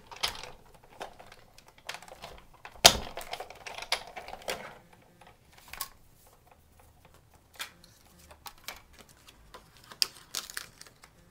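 A paper die-cut pressed through a Big Shot die-cutting machine on a standard cutting pad with a framelit die: a series of close crisp clicks, crinkles and crunches, one sharp loud snap near the start, in bursts without speech.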